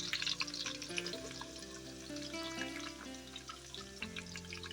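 Mustard seeds, cumin and turmeric sizzle in hot oil for a tempering, cooked outdoors at a farm: a dense, continuous crackling fry close by, with soft stirring clatter and a faint tonal hum underneath.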